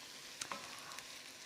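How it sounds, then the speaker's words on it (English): Spices sautéing in a pan for sweet potato, carrot and red lentil soup, giving a steady soft sizzle with a couple of brief clicks of stirring, close and fairly quiet. "We need to saute the spices so that they're not raw"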